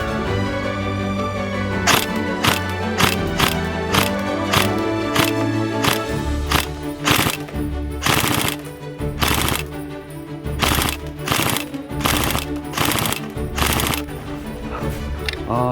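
Tokyo Marui AK Storm airsoft electric gun shooting 0.2 g BBs at a target, a long series of loud sharp cracks fired one at a time at an uneven pace, close to the microphone over a steady background hum.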